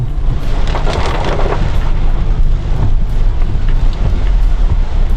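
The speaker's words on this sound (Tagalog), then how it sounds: "Grabe lakas ng ulan." Heavy rain pours down in a steady, loud roar with low rumbling thunder underneath, continuous throughout with a few brief gusts of wind buffeting the microphone.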